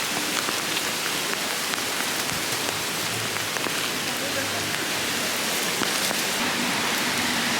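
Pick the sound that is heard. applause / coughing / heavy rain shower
heavy rain shower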